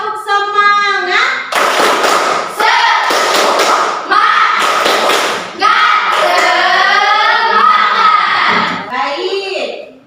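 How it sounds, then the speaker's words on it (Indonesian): A school class chants the rhythmic 'tepuk semangat' together, bursts of group clapping landing between loud unison voices in a classroom. The claps come in sharp, energetic clusters. "kita tepuk semangat dulu ya"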